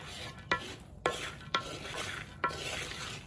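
Groundnuts roasting in hot sand are stirred in bulk, giving a steady dry gritty rasp with four sharp scraping strokes standing out at a fairly regular pace, close and moderately loud, with no voices.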